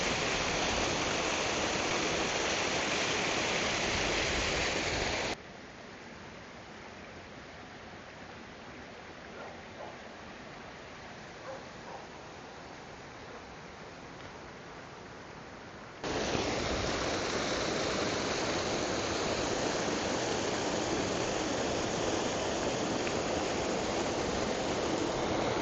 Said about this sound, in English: The waterfall, you can see it down there.